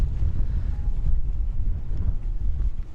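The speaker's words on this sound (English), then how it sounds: "It's also quite windy as well." Steady low wind rumble buffeting the microphone outdoors at a marina, continuous throughout with no talking.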